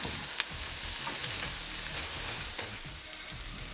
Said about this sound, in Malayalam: ഈ ബട്ടറിലേക്ക് പൊടിയായി എരിഞ്ഞ സവോള ചേർത്ത് കൊടുക്കാം. നന്നായി വഴറ്റി കൊടുക്കാം.